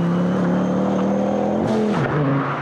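A Volvo C30 T5 with a five-cylinder engine shared with the Focus RS revs up loudly and close, a rising throaty drone that shifts pitch near the end.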